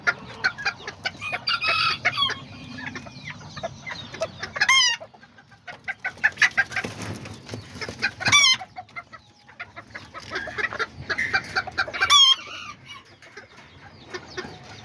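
Serama chickens cluck and chatter steadily in a backyard coop while a rooster lets out three loud crows spaced a few seconds apart, with short pauses between the bursts of calling.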